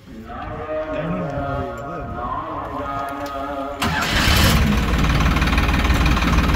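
A new Farmtrac tractor engine cranks and catches, then settles into a loud, steady diesel idle close by, after a few seconds of people talking.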